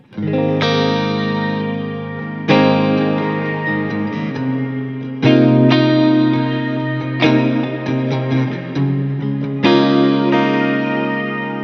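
Sustained guitar chords played through the shimmer reverb of a Mooer Ocean Machine pedal, each strum ringing out with lush, chorused overtones, loud and close.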